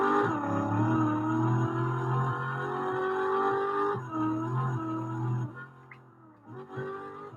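A car in a Roblox driving simulator game drones with a steady synthetic engine tone that shifts pitch as it accelerates and changes gear, continuous and fairly loud with no voices.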